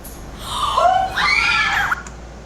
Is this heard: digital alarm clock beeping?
no